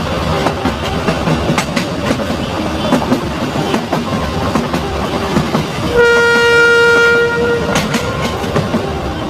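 A train rolls along with steady rail rumble and clatter, then a loud sustained horn blast sounds partway through, close and prominent over the running noise.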